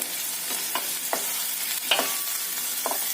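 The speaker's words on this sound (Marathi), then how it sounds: "थोडा वेळ छान परतून घ्यायचं कांदा छान ट्रान्सपरंट झालाय" Onion sautéing in a pan gives a steady hiss of frying, broken by soft scrapes and knocks of a spatula stirring it, close and continuous.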